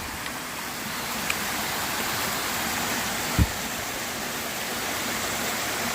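Steady broadband rush of a cascading waterfall on the Appalachian Trail, constant and close, with no voices and only a faint knock partway through.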